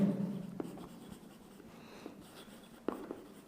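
Marker or pen writing on a board or paper during a probability lesson, with soft scratchy strokes and a couple of sharper taps, low and fairly quiet with no talking.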